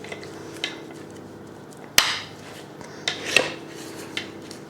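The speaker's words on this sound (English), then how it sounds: "So just pat that into the sides." A spoon pats and scrapes sponge cake mixture against the greased sides of a small 4-inch baking tin, with soft taps and one sharp clink of metal partway through, close and quiet.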